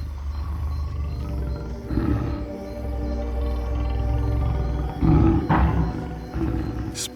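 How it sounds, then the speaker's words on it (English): Low, rumbling growls from a lioness mother carry through a night ambience, with several swelling bursts over a steady low drone and no voices. "They recognize their mother's growls."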